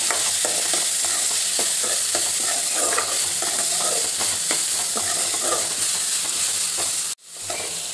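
Horse gram stirred and fried in a pan for a chutney, a continuous close sizzle with a spoon scraping and rattling through it, ending in a sudden cutoff.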